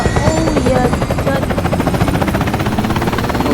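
A video game helicopter's rotor thumps in a steady rapid beat with a whining engine hum, loud and continuous throughout.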